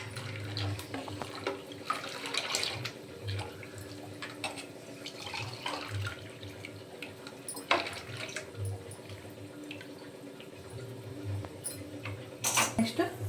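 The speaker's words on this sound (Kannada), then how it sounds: "ಓಕೆ, ಮಜ್ಜಿಗೆ ಹಾಕೊಳ್ಳೋಣ." Buttermilk being poured for a Rama Navami offering, with faint liquid splashing and trickling, light clinks of vessels and a soft voice talking nearby.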